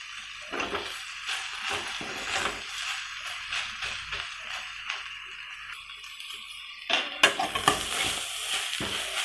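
Greens and lentils sizzling in hot oil as a tempering in a pan, with steady frying crackle, stirring scrapes and a louder burst of sizzling near the end, no talk.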